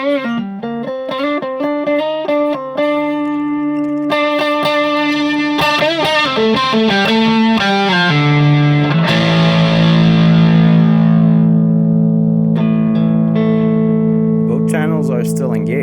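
Electric guitar played through a custom-built GUPTech distortion pedal, loud and sustained, with chords and single notes ringing under a gritty, saturated tone that stays fairly clean in definition; no voices.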